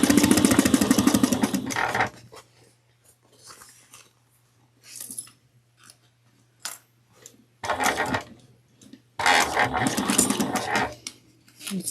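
A sewing machine stitches a crossbody bag in bursts of rapid, buzzing needle chatter, with pauses of quiet handling and faint clicks between runs and a low steady hum underneath.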